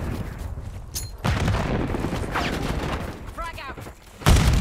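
A frag grenade detonates during a Call of Duty match, with sharp booming blasts and bursts of gunfire cutting in abruptly, the loudest hit landing near the end amid a busy combat soundscape.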